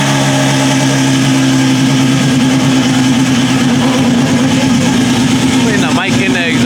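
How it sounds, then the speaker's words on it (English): A twin-turbo V12 Ferrari F12 with a built-up engine runs loud and close after starting, giving a steady, dense idle drone with an abrupt flutter near the end. "They're about to start the F12. This shit's gonna sound insane."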